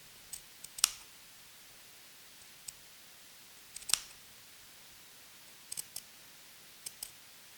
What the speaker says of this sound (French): Je viens glisser mes ciseaux uniquement sous la toile.